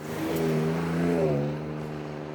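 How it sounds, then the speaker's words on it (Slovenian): Off-road, Mustang-like car engine roaring, a close throaty rev that rises and swells to a peak before settling back to a lower steady rumble. "Namreč ta motor tudi močno zarohni."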